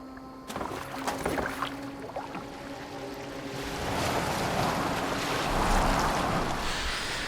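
In the video game Assassin's Creed Valhalla, a boat moves across the water with waves lapping and splashing against the hull. The sound is soft and choppy at first and builds into a steadier washing rush.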